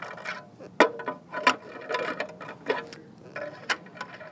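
Small ratcheting clicks and metallic ticks as captive 4mm screws are tightened on an LCT illuminator, close and irregular, with a few sharper snaps among softer scraping mechanical sounds.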